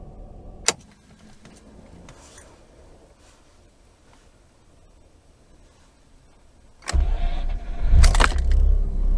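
A Mazda RX8 rotary engine with a new starter motor fires up on a hot start: quiet waiting and a few small clicks, then a sudden loud engine burst that keeps running strongly to the end.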